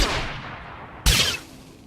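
A single sharp sniper rifle shot cracks out in the SWTOR video game on the planet Balmorra, loud and close, following a low rumble of ambient combat noise.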